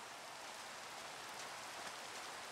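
Rain in the block-building video game Minecraft (AdventureCraft) makes a steady, soft hiss that holds even throughout.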